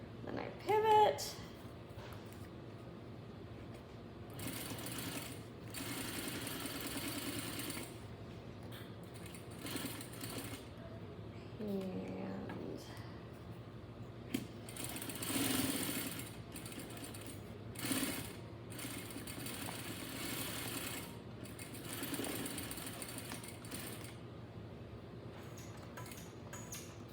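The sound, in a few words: sewing machine stitching fabric mask seam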